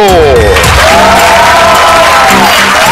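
A television studio audience cheers and whoops for a guest introduced as the inventor of an intelligent sex robot, a loud, dense burst of crowd noise with a host's voice carrying over the top.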